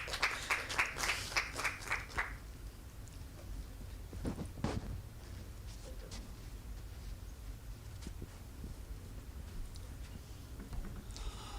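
A short burst of applause and clapping from a conference audience at the start, fading within a couple of seconds into quiet room noise.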